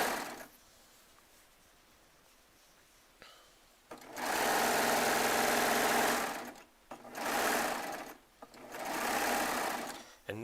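Baby Lock Triumph serger stitching in three loud, sustained bursts of rapid mechanical whirring, separated by brief pauses, after a quieter stretch at the start.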